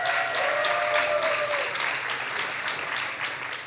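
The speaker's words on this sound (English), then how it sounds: "great applause." An audience at a science slam applauds steadily in a dense, even wash of clapping that fades slightly toward the end, with a brief tone sounding over it early on.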